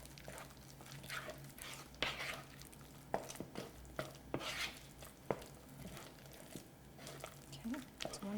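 Egg being mixed into Thai curry with a wooden spoon, irregular soft scraping and knocking strokes against the pot, fairly quiet, with brief clatters and a few low voice sounds.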